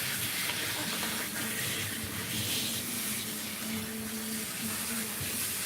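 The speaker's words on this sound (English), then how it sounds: "so we can just try and get her rinsed off" Steady running water rinses a heavily matted Persian cat in a bath, a continuous loud spray and splash filling the whole stretch with no speech.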